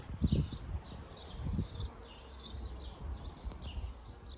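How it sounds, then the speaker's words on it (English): Bumblebees and other hovering insects buzz around garden flowers, a soft drifting drone with faint bird chirps and occasional low thumps nearby. "The flowers are feeding the bumblebees and all the other hovering insects."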